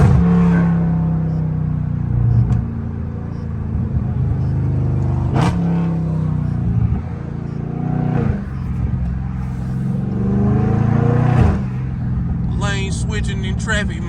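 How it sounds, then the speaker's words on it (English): A loud catless Dodge Charger Scat Pack rumbles steadily in traffic with a deep, throaty exhaust, swelling in a few surges over a continuous drone. "this car loud when you get behind it"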